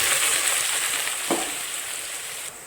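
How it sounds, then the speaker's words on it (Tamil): Steady crackling sizzle of cinnamon, cloves and fennel seeds frying in sesame oil, close and continuous, with a brief soft clink partway through; no voices. "நாலு டேபிள் ஸ்பூன் நல்லெண்ணெய் மூணு பட்டை மூணு கிராம்பு கால் டீஸ்பூன் சோம்பு நல்லா பொறிஞ்சு வரட்டும்"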